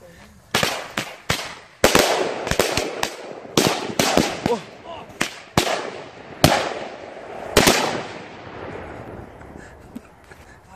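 A Titanium Salute battery and a 50 mm rocket fire off a rapid string of loud, sharp cracking bangs at uneven intervals, each one followed by a brief crackling tail.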